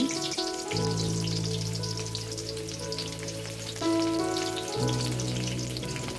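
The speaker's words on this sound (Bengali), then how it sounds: "কড়াইতে তেল দিব এরপর দিব পেঁয়াজ কুচি" Chopped onion sizzles steadily in hot oil in a wok, a soft, even frying hiss that runs throughout beneath sustained background music tones.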